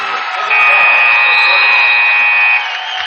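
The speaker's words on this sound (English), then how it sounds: "3 on the way from Bauman is good at the buzzer." A basketball scoreboard buzzer at a high school boys' game ends the quarter with a single loud, sustained electronic blare lasting about two seconds over crowd noise in the gym.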